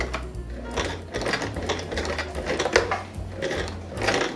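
A sewing machine stitches a zipper onto fabric, its motor running in steady, rapid bursts with brief pauses between runs of stitching, close and fairly loud with no talking.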